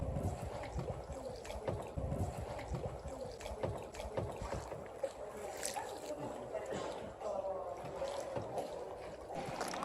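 A gondola glides along a Venice canal, with water lapping against the hull and steady wind noise on the microphone throughout.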